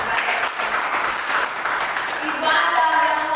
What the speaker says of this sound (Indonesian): Tepuk tangan dulu deh buat Tuhan Yesus